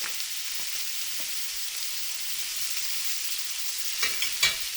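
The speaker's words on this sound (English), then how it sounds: "I'm just going to roll that butter around through it a little bit." Butter sizzles steadily in a hot $17 cast iron skillet, a bright continuous hiss with a few sharper crackles and spits near the end, close and alone.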